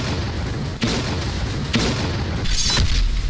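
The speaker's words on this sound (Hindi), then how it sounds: "धमाकों से फिर दहला खार्किव।" Three heavy booms from Russian shelling in Kharkiv follow one another roughly a second apart, each a deep rumbling blast over a dense, constant low background roar, with no voices.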